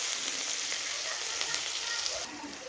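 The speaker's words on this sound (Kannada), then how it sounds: "ಇದು ಚೆನ್ನಾಗಿ ತಿರುಗಿಸಿ, ಟೊಮೊಟೊ, ಈರುಳ್ಳಿ ಎಲ್ಲ ಫ್ರೈ ಆಗಬೇಕು ಚೆನ್ನಾಗಿ." Tomato, onion and coriander leaves sizzle and fry steadily in a pan for lemon rice, a continuous close hiss with faint stirring, no voices.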